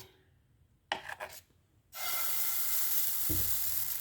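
Moong dal chila batter hits a ghee-greased griddle and breaks into a loud, steady close sizzle after a few clattering handling sounds, continuing evenly to the end.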